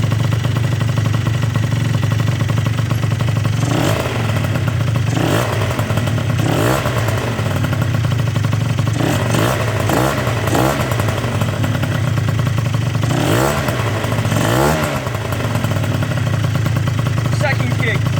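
A motorcycle engine fitted with a Hoca 47.6mm big bore kit runs loud and close after a kick start, with a steady rumbling idle broken by several sharp revs; a person speaks briefly over it.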